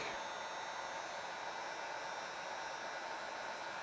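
Hot air tool with a nozzle attachment heating an acrylic sheet for bending, giving a steady, faint hiss of blowing air with a constant hum and no change throughout.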